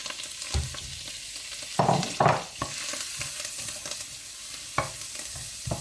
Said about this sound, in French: Et on va faire revenir pendant 5 minutes